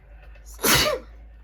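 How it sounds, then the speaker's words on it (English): A single short sneeze from someone with a lingering cold, a quick sharp burst close to the microphone, preceded and followed by faint quiet room tone. "Oh, I need to sneeze."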